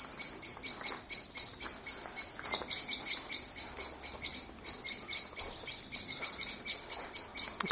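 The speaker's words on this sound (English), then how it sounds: "A couple of blackbirds having an argument." Blackbirds squabble in a park in winter, giving quick, bright chirps and calls that come in a busy, irregular stream at moderate distance, with faint background chatter around them.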